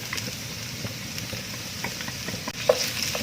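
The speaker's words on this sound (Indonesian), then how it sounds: "Sekarang kita memasukkan lagi minyak goreng ke dalam wajan. Ini masukkan sisa bawang putih." Garlic sizzles in cooking oil in a wok, a steady close crackle of frying with faint stirring clicks and a louder scrape near the end, no talking.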